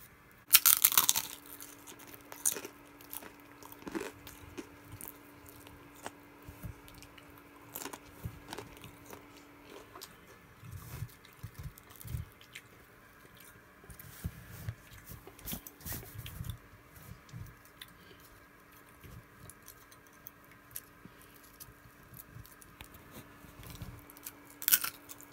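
Someone eating a pancake together with a Dorito, producing quiet, intermittent crunchy bites and chewing scattered across a long stretch, close but faint.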